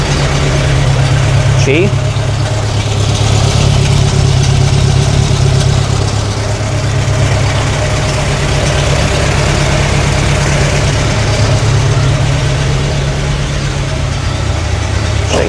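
A Škoda 110 L car engine idles steadily just after its first start, a low, even rumble that runs unbroken throughout while someone talks over it in Slovak.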